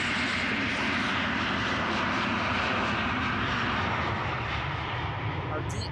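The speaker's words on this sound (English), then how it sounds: "German Airways Embraer 190 flying for KLM." An Embraer 190 jet departing Amsterdam Schiphol Airport roars loudly and close by. The broad engine rumble and hiss hold steady through the whole stretch.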